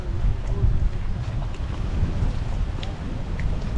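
Strong, gusty wind buffets the coast at Marsaxlokk, a heavy low roar of wind noise pressing on the microphone continuously, with faint background sounds underneath and no clear talk.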